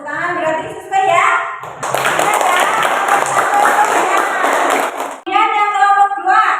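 A class of students applauding in a classroom, a dense burst of clapping lasting a few seconds, with a teacher's speech before and after it.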